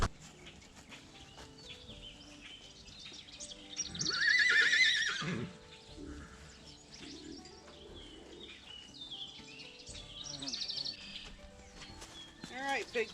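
A horse whinnies loudly near a gate, one strong neigh rising over outdoor ambience with birds chirping, a few faint hoof clops, and someone talking at times.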